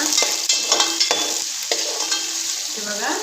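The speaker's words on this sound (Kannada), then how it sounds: "ಈರುಳ್ಳಿ ಹಾಕಿ ಚೆನ್ನಾಗಿ ಫ್ರೈ ಮಾಡ್ಕೊಡುವ" Chopped onions fry and sizzle in an oiled pan for palak chicken, with repeated scraping and stirring strokes from a spatula cutting through a steady, close crackle; no voices.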